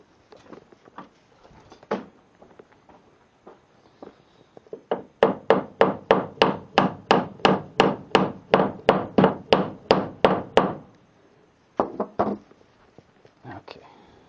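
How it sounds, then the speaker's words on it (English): Repeated hammer blows drive a nail into a wooden shelf in a garage: about twenty steady, loud, evenly spaced strikes in a fast run, with a few scattered taps before and after. "I'll probably have to hammer that first one in."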